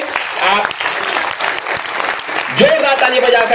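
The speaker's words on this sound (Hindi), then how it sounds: "कृपया एक बार जोरदार ताली बजा करके" A hall audience at a political party's national convention in Mumbai claps loudly and continuously, with a voice speaking over the applause near the end.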